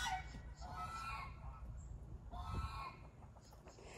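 Several chickens, including a black sex link, cluck and chatter nearby in short bursts on a homestead, with a rough, shuffling background throughout.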